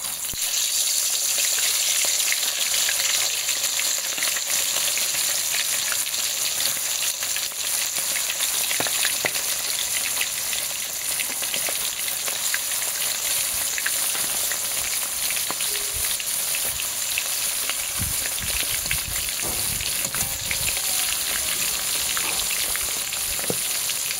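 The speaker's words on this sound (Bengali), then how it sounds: "তারপরে এটাকে ছাকা তেলে কড়া করে ভাজবো।" A fish head rubbed with salt and turmeric sizzles continuously in hot oil over a stove, a loud, dense, steady frying crackle with occasional sharper pops and no voices.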